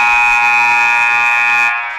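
Loud, steady electronic buzzer of a basketball game clock sounding at the end of the first half in a girls JV game, holding a harsh tone for over a second before cutting off into gym ambience.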